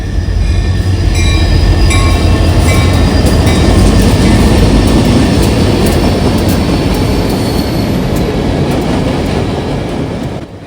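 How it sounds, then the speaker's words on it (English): A northbound mixed freight train on CSX's Columbus subdivision rolls past an overpass, a loud, steady rumble with rhythmic clickety-clack of wheels over rail joints that fills the whole stretch and fades slightly at the end. "Passing a northbound mixed freight train on CSX's Columbus subdivision"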